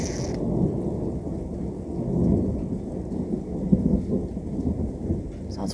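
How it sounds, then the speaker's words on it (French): A thunderstorm with steady rain and low, rolling thunder that swells and fades throughout, loud and close, with no voices over it. "En ce moment, ça y est, les orages et tout qui prennent vie, quoi."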